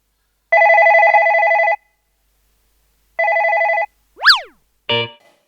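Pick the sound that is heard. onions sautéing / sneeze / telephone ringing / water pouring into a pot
telephone ringing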